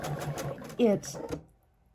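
A sewing machine chain-piecing fabric for placemats whirs in a short, loud burst partway through, with someone talking over most of it before it trails into quiet.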